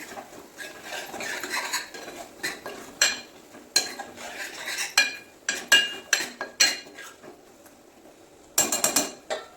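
A cucumber and tomato curry is stirred in a pot, giving a series of close metal scrapes and clinks of spoon against the pot, bunched in bursts with short pauses and a sharper flurry near the end.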